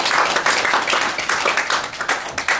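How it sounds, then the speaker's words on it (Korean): Applause for a church choir during a Sunday worship service, steady dense clapping from the congregation filling the room throughout. "오늘 찬양 성가대 여러분 박수 한번 쳐주시죠."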